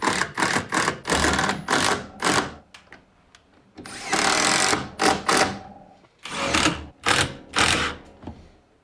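A power driver sets screws into the back plate at the hinge end of an attic stair kit, whirring in short loud bursts that start and stop repeatedly, close by, with brief quiet gaps between them.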